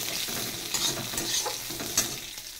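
Green chilies fry in hot oil alongside bay leaf, black pepper, cumin and dried red chilies. A busy close sizzle carries several sharp spatters and pops, with stirring scrapes in between.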